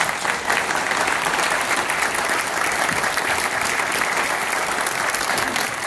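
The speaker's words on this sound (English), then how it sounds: "I just want to give you guys a round of applause." Convention crowd at Pensacon 2020 applauding a TRON panel, a dense, steady wash of clapping that stays loud and even throughout.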